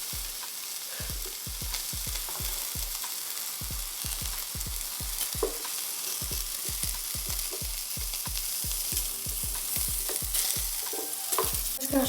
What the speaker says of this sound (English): I'm gonna stir these all around so they all get cooked.